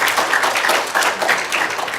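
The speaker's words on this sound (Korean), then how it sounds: "박수." An audience at a Korean health seminar claps steadily in a brief, dense burst of applause that stays at an even level throughout.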